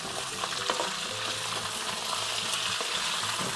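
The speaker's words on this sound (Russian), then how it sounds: "внизу там уже картошка начала жариться" Potatoes fry in a pan with a continuous crackling sizzle, close and steady, broken by a few light scraping stirs and no talking.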